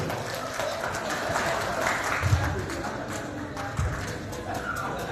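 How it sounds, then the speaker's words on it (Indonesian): An audience at an Indonesian educational dialogue on civic organizations breaks into applause, a rough, continuous patter of clapping at moderate level with a few heavier thumps and voices mixed in. "Tepuk tangan dulu."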